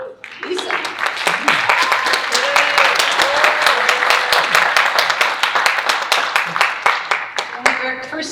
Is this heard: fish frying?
no